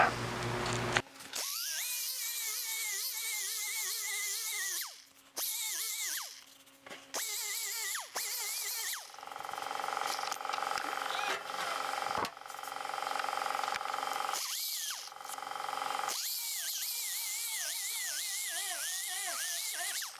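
A 2-inch rotary tool with a foam pad whines steadily against a Jaguar E-Type aluminum bonnet while finishing welds, its pitch rising and falling as the pad moves over contours, with several brief stops and restarts.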